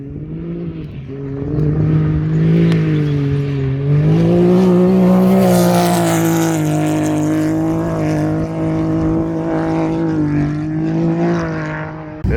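A race vehicle at the Finke Desert Race in the Simpson Desert roars past close by, its engine note climbing then holding a loud steady drone before dropping away, with no voices.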